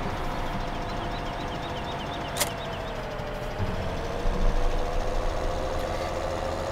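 Fendt tractor engine in Farming Simulator 2017, a steady low idling drone hauling a big livestock trailer through a field, continuous and unchanging with a faint click partway through.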